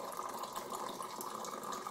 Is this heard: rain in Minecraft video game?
no